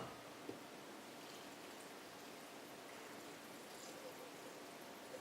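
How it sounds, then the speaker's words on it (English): Water poured onto freshly shredded vegetables in a container to make a fermenting brine, a steady soft splashing trickle that runs evenly through the whole stretch at low, close volume. "I'm going to add some water."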